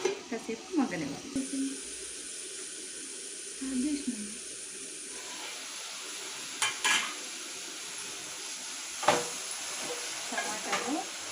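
Tomatoes stirred and cooked in oil in a pan for tomato pachadi: soft, intermittent scraping strokes over a faint, steady sizzle, close and fairly quiet.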